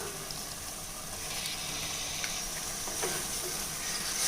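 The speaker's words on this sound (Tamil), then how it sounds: "சிக்கன் சேர்த்து நல்லா பிரட்டி விட்டுக்கலாங்க" Chicken is tossed in a frying onion gravy with a constant sizzle and soft stirring scrapes, steady and fairly close with no talk over it.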